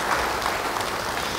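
A church congregation claps together after a pastor's call, a brief burst of dense applause that carries on evenly through the short moment.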